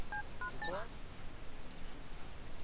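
Cell phone dialing in The Sims 3 video game: a quick series of short electronic key-tone beeps followed by a few soft interface clicks, faint and close, with no talk.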